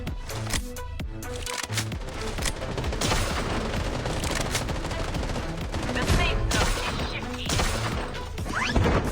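Rapid bursts of M187 gunfire from the Blood Strike battle royale game come through loud and close, with dense rattling volleys, crashes and booms running nearly continuously.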